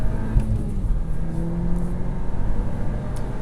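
A 2023 VW Golf R's engine on a race track, a steady close-up drone with low rumble and a faint rising whine of revs building toward redline, continuous with no break.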